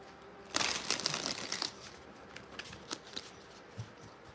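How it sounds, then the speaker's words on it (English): Tarot cards are shuffled close up, a loud riffling burst at first followed by softer, scattered card taps and slides. "I'm just getting a good shuffle, you guys,"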